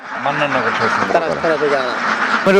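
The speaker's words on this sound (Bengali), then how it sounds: "এটা আমার ক্যাম্বেল হাঁস" Khaki Campbell ducks quack in quick, nasal bursts close by, layered over each other in a busy flock chorus.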